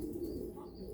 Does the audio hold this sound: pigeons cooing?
yes